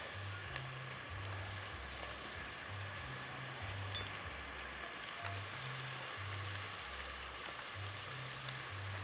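Food fries in a pan with a steady, close crackling sizzle throughout, accompanied by occasional low thumps from cooking.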